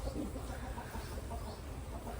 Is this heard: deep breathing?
no